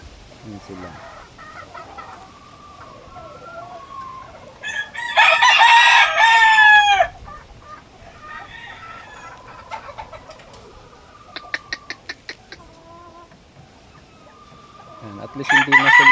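White Kanawayon chickens cluck and call in a yard, with a loud rooster crow bursting out midway and another starting at the end.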